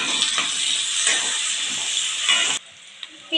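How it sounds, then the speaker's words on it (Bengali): Onion, green chili and garlic hit hot mustard oil and hiss loudly with a bright, steamy sizzle for a couple of seconds, then the sound cuts off abruptly, leaving only faint clicks. "দিয়ে দিচ্ছি পেঁয়াজ, কাঁচা লঙ্কা, রসুন।"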